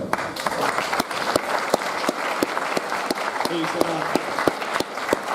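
Crowd claps for Luke, a big centre back, at a 2017 Dunedin Technical youth football prizegiving. Steady, close applause with distinct individual claps continues throughout, while voices murmur underneath.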